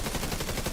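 A deployed turret in The Division opens fire, a short dense burst of rapid gunshots, loud and close, with no talking.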